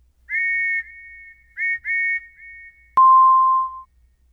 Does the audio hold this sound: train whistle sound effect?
yes